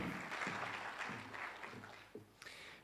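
An audience at an entrepreneurship training event claps briefly for a company director joining the stage, a soft, distant patter with a few louder individual claps and faint voices.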